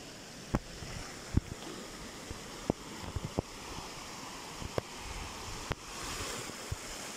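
The Seitesyavrjok river flows with a steady broadband rush and wind-like noise, broken by several sharp brief knocks or splashes scattered throughout; no voices are heard.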